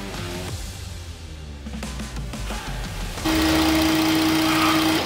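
A Mercedes-Benz CLS 350d 4Matic diesel idles nearby in a workshop with a steady low rumble; partway through a loud constant tone and hiss join in and hold to the end.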